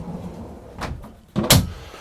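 A large drawer in the French oak cabin of a Hanse 460 yacht is handled up close: a soft slide, then a firm thud as it shuts, the two sounds coming about half a second apart with no talking.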